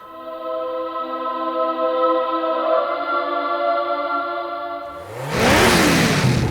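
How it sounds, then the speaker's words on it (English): A turbocharged car with a modified wastegate actuator pulls hard in third gear, a loud engine note climbing steadily in pitch for several seconds before a sudden burst of rushing, roaring noise as the run ends. "Let's go ahead and do a quick third gear pull and see what we get."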